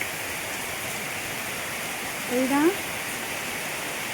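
Steady rain falls at home, a broad even hiss running throughout, while a voice speaks briefly near the middle.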